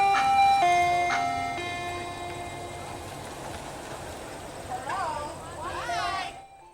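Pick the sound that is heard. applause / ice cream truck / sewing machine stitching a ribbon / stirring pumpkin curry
ice cream truck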